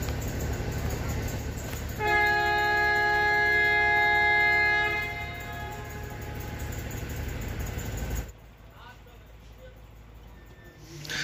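A passenger train in the desert near Khokhrapar, Pakistan sounds a long, loud, steady horn for about three seconds over continuous rumbling rail noise, which carries on until it cuts off abruptly.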